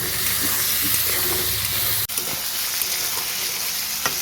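Potatoes and onions sizzle steadily in a hot pan, a dense close frying hiss with a sharp knock midway and occasional faint stirring clicks.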